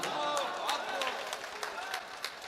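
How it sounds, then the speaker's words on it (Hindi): A crowd at a Hindi-Urdu poetry recital breaks into applause, a short burst of scattered clapping and murmured approval with some voices mixed in. "दाद दे दीजिए सब लोग तालियां बजा के"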